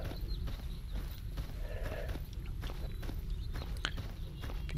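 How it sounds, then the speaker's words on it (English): Footsteps in the video game STALKER Anomaly: steady, soft treading steps that repeat under a constant low ambient rumble, fairly quiet, with no voices. "I do hear a few footsteps, but they're probably upstairs"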